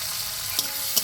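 Chopped onion fries in a hot pan, a steady loud sizzle broken by two brief sharp crackles or spatula taps.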